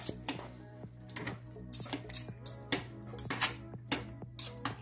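Oven-cooked pulled pork being shredded, with metal utensils clinking and scraping against a pan in quick irregular taps over a low kitchen hum.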